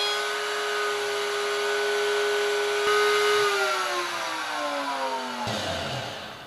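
A power tool cuts a deep slot in wood with a dulling bit while restoring a wooden boat's cockpit. A loud, steady high whine runs throughout and drops in pitch under load, then cuts off sharply near the end.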